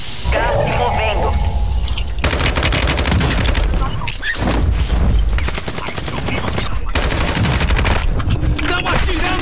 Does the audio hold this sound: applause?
no